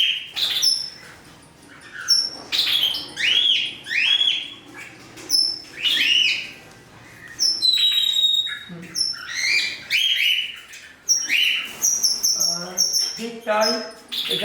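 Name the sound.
cockatiels chirping at a breeding pot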